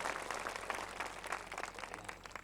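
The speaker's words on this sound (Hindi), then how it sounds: "अब तक की सबसे बड़ी ताली होनी चाहिए" Dense, steady applause from an audience at a mushaira and kavi sammelan poetry gathering, a continuous crackle of many hands clapping, heard at a distance and fairly quiet.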